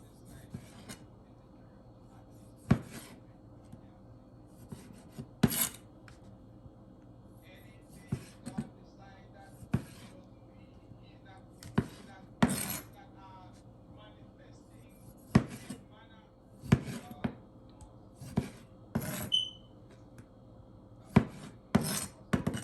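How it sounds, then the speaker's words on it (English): Knife slicing cherry tomatoes into small pieces on a cutting board, producing sharp, scattered chops that come in irregular bursts over a quiet kitchen background. "next I'm gonna be adding my cherry tomatoes. Just gonna cut them into small pieces as well."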